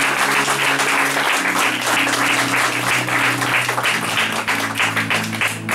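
A church congregation applauds in sustained, loud clapping that fills the space, with a low steady musical drone beneath and no clear talk.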